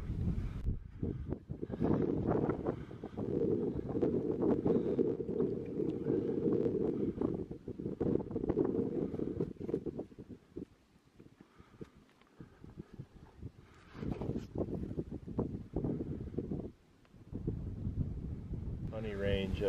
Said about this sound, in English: Wind is picking up a little bit